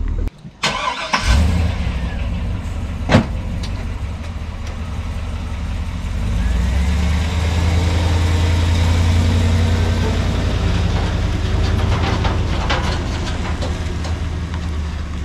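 An abandoned Volkswagen Rabbit engine cranks and catches, then runs with a steady, rough low rumble that grows slightly louder midway and carries on alone without talk.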